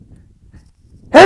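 A sudden loud sneeze erupts close to the microphone on a hiking trail, coming right after a quiet stretch of faint outdoor background.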